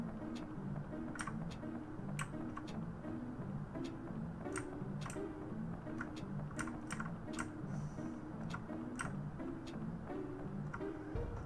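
Computer keyboard keys are tapped in irregular bursts of crisp clicks over a low steady hum, close and moderately quiet, with no speech during the typing.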